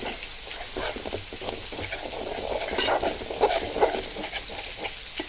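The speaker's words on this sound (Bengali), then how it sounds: "তাড়াতাড়ি কষানো হচ্ছে, আস্তে থেকে যখন নেড়ে যাবে তখন তেল ওঠা করে কষিয়ে নেবে।" Taro leaf curry is stirred and fried in oil, with a continuous close sizzle broken by repeated scraping stirs of a spatula against the pan and a few sharper crackles.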